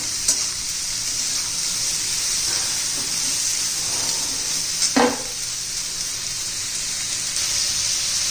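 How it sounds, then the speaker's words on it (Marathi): Ridge gourd sautéing in oil in a pan for a spicy thecha, a constant hissing sizzle with occasional soft stirring knocks and one sharper spoon clink near the middle. "चांगलं मऊ होईपर्यंत आपण परतून घेणार आहे"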